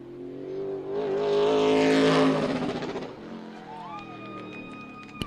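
A race car on a qualifying lap at Meridian Speedway, Idaho, roars past, rising to a loud whine then fading, with a faint announcer voice and a high tone near the end.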